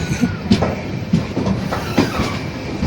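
A nearly empty Konkan Railway train from Ratnagiri to Mumbai rumbles along the tracks, its wheels clacking in a steady rhythm over a loud, continuous roar.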